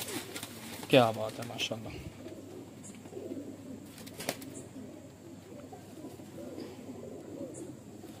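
Breeder pigeons coo softly and continuously at close range, a low murmuring bed beneath a man's brief admiring remark and a sharp knock partway through.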